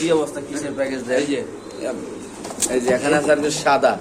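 Pigeons, a pair being sold with eggs and chicks at a market, coo in throaty, rolling bursts close by while someone talks over them.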